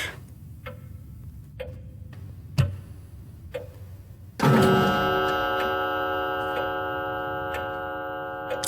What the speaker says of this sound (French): Le bruit d'horloge qui est bien glauque.